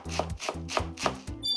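A knife chops garlic chives (nira) on a cutting board in five steady, evenly spaced strokes, each a crisp thud, close and fairly loud, with no talking.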